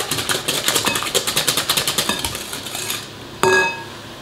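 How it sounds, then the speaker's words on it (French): A spoon or whisk beats yogurt with eggs and sugar in a bowl for a gluten-free, fat-free yogurt cake, making a steady rapid run of clinking scrapes that stops, then one sharp clank. "on vient mélanger notre yaourt à nos œufs et au sucre"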